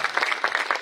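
Audience applause at a party workers' meeting in Bhadohi, a brief burst of steady clapping from a gathered crowd, loud and close with no voices.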